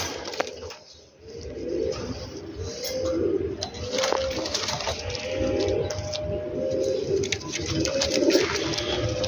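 Pigeons on a rooftop coo in soft, rounded, repeating bursts at a steady rhythm. Faint background noise and occasional clicks sit underneath.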